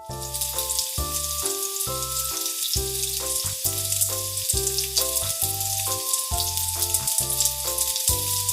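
Shrimp seasoned with salt and pepper sizzles steadily in a pan, a constant hiss running beneath bright background music with no talking.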